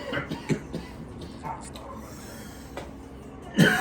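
A person coughs after inhaling vapor: a few short coughs near the start, then quiet breathing, and a louder burst of coughing near the end, all close to the listener.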